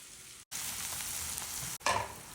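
Onion fries in vegetable oil with a continuous close sizzle, cut by two brief pauses, then a louder burst of crackling as it is stirred.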